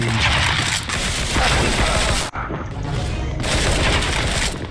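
Dense, continuous gunfire from a tactical Counter-Strike match, loud overlapping shots and blasts filling the whole stretch with only a momentary dip in the middle.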